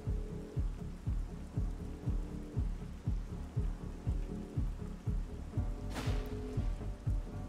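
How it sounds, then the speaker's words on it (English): Heavy rain in Fallout: New Vegas hisses steadily, with a regular low thumping pulse underneath and a brief sharp crackle near the end. "This is, like, a really heavy rain, too."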